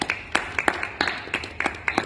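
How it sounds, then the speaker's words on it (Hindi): A church congregation clapping together, a brisk rhythmic run of sharp hand claps in a reverberant hall, steady and moderately loud. "अब अपने लिए एक बार जोरदार ताली बजाएं सब।"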